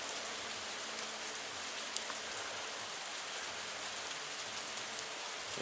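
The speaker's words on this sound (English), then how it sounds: "So it's been doing this on and off all day. Hail. Freezing rain." Hail and freezing rain fall in a cold spring shower, a steady faint hiss of precipitation with occasional small ticks of impact, no voices.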